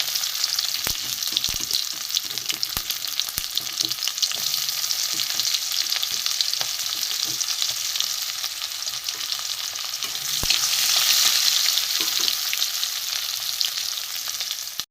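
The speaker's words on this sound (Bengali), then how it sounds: "প্রথমে আমি রসুন কুটিগুলো দিয়ে দেবো রসুনটা একটু ভাজা হোক কাঁচা গন্ধটা চলে যায় পেঁয়াজ কুটিও দিয়ে দেবো" Chopped garlic and onion fry in a pan with a steady, close sizzle and occasional stirring scrapes, with no talking.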